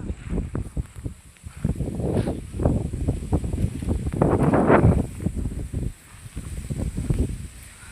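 Strong gusty wind before a storm in a rural setting, rushing and buffeting the microphone in uneven surges that swell loudest midway, with rustling underneath.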